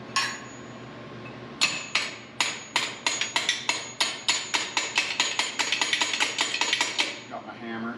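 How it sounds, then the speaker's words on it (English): A hammer striking truck rear suspension parts during a retro build install, starting with a few spaced blows and then settling into a fast, steady run of sharp metallic taps close by, tapering off at the end. "Got my hammer."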